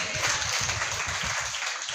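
A congregation clapping together during a church sermon, a steady run of loud, rhythmic claps filling the room throughout the short stretch.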